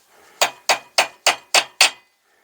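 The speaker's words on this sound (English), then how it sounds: "you hear the sound change as I hit it. That means it's put a good dimple and the shoulder's gone up" Six sharp metallic strikes from a 6-ounce hammer dimpling metal, struck in a steady, evenly spaced rhythm and heard up close with no talk, for a 7.25 inch gauge BR Standard 2 locomotive build.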